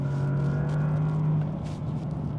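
Close, loud steady engine drone from a Bentley Continental GT hybrid, a sustained low hum with a constant pitch and slight variation while driving, with no talking.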